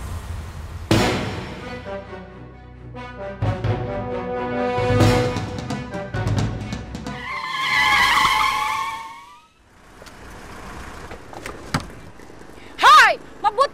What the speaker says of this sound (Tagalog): Mabuti na lang malakas ang preno ng kotse ko!